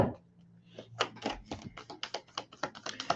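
Tarot cards being shuffled up close, a quick, uneven run of soft papery riffles and taps that gets denser toward the end, with no talk over it.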